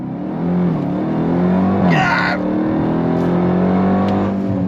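Dodge Durango Hellcat Jailbreak V8 SUV in a launch-control start, its engine roaring loud and steady as it accelerates hard, rising in pitch, with a brief excited shout from someone inside partway through.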